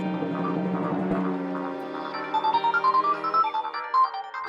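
A phone ringtone plays alone, loud and close, an incoming call from the boss: a low melodic tone gives way to a bright, bouncing run of repeated notes.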